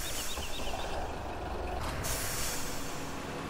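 A truck's air brake in the farming game Farming Simulator 17 lets out a steady hiss of released air, with a brief sharper burst about two seconds in.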